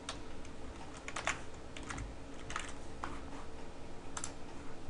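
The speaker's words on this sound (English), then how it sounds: "you go to the Start menu, and you type VMware" Typing on a computer keyboard, a quick run of clicky keystrokes at moderate distance with small pauses between clusters, alone with no speech.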